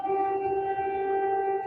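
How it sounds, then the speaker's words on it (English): Air raid siren sounding in Ukraine, a steady, sustained wailing tone held throughout, loud and unbroken, with no talk over it. "You can hear the sirens going off behind me right now."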